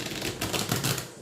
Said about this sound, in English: let's give this a good shuffle because we want the truth